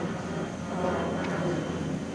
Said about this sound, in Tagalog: Saka daanan talaga ito ng eroplano dito. Kasi malapit lang sa airport.